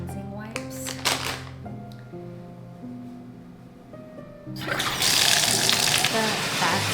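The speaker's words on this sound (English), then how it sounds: "The bathtub is running, and I'm gonna add my bubbles inside here." A bathtub fills with running water from the tap, a steady loud gush that starts about midway and continues over faint background music.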